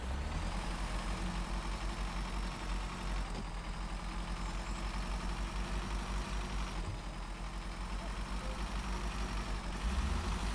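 A truck engine in the video game SnowRunner drones steadily, with a fairly high-pitched, tinny tone rising and falling slightly and carrying through the whole passage without talk.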